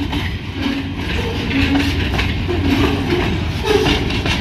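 A train with log and pulp cars rolls past with steady momentum, giving a dense, continuous rumble and rhythmic rail clatter close by.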